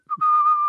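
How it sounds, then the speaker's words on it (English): A single short whistled note, clear and close, held steady for under a second. "were you whistling?"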